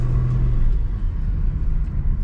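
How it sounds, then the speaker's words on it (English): A car engine rumbles close by with a low, steady drone as the vehicle is driven a short way to a shady spot in front of a store, the road noise continuous and unbroken throughout. "we are gonna move the car somewhere a little bit west, right in front of the store"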